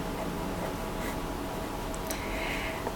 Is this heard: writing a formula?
yes